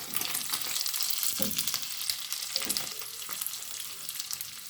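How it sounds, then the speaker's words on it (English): Steamed gizzard fries in a hot pan with a steady, broadband sizzle, while a utensil stirs it in occasional scraping bursts, close and continuous throughout with no talking. "So we add our gizzard, which is already steamed, and stir."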